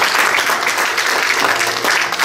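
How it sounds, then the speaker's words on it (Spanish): Congregational applause at an evening church service, a loud, continuous sustained clapping from a sizable crowd with no pauses. "Denle un aplauso fuerte al Señor por esta tarde."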